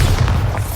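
Bombarda blasting spell in Hogwarts Legacy, a single short, heavy low boom with a rumbling body, loud and close, lasting under a second.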